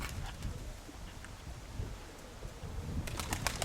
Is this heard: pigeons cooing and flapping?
yes